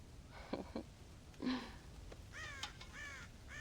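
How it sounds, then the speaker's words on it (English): Crows caw around a farm silo in the video game Red Dead Redemption, with a few harsh cries at first, then a rapid series of nasal calls toward the end, over a soft rural background with no speech. "God damn crows!"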